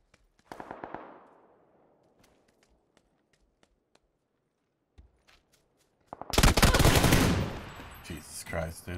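Gunfire in a shooter video game comes in two bursts, a short rapid volley early on and a louder, dense stretch of automatic fire near the end, with quiet gaps and faint clicks between.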